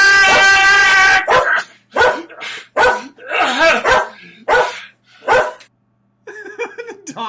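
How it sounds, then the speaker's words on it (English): A dog barks in loud, clipped bursts, about six sharp barks spaced unevenly across several seconds, close and alone, ending with a few softer yips and whimpers. "The dog's barking and everything."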